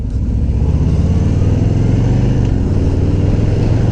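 Harley-Davidson Fat Boy motorcycle accelerating on a main highway, a loud, steady, deep engine rumble that holds close and constant throughout, with no talk.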